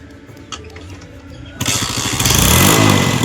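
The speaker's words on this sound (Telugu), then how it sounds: "సరేదా బైక్ వేసుకెళ్దామా?" A motorbike engine fires up partway through, jumping from quiet background noise to a loud, close, steady chugging idle that grows slightly stronger toward the end.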